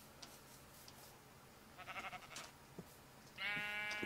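Sheep bleating in the Minecraft video game, with one short, faint bleat in the middle and a louder bleat at the end, heard over quiet ambient game sound.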